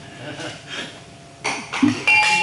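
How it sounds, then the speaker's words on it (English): A bell rung at the close of a meeting aboard the USS Hornet, a few bright strikes near the end, heard over room noise. "Ring the bell."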